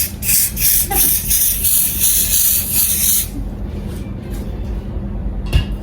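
A hair holding spray is sprayed onto the back of a wig in several short, rapid hissing bursts close by for about three seconds, followed by quieter rustling and a soft thump.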